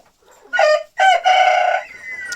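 Hens fighting each other, clucking and squawking up close, a few loud bursts of agitated fowl calls one after another, ending in a thinner high cry.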